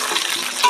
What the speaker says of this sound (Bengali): এবার কাঁচা লঙ্কা আলুটা সুন্দর করে ভেজে নেব ভালো করে।